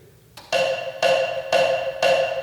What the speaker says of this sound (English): So let's hear the click. This will be my quarter notes now.